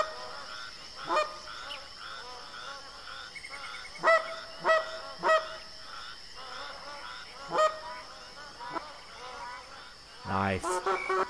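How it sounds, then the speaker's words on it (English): Geese honk repeatedly in theHunter Classic hunting game, several distinct calls scattered across the scene at moderate distance, with a louder burst near the end and a steady background ambience throughout. "I can hear some geese already."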